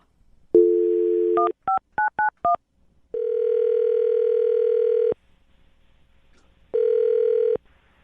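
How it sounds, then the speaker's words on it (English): A telephone call is placed: a steady dial tone, then a quick run of five keypad beeps, followed by two long ringing tones separated by a pause, loud and close with no talking. "I'm going to dial the phone number right now, get him on the phone"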